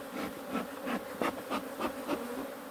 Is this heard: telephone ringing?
no